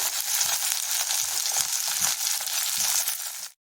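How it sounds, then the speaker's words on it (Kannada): Cluster beans and chopped onion hiss and sizzle steadily as they fry in a hot pan, a dense continuous crackle with a few soft stirring scrapes, no voices, cutting off abruptly at the end. "ಈಗ ಇದಕ್ಕೆ ಗೋರಿಕಾಯಿ ಮತ್ತು ಈರುಳ್ಳಿ ಎರಡು ಒಟ್ಟಿಗೆ ಹಾಕ್ಕೊಳ್ಳೋಣ"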